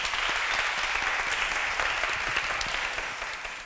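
Sustained, even audience applause after a lecture on North Korea and reunification, dense clapping from a hall of listeners that fades slightly near the end.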